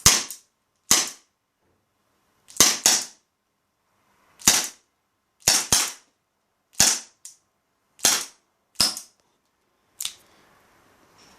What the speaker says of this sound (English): that was 10 rounds from a Smith & Wesson J-frame, Tanaka J-frame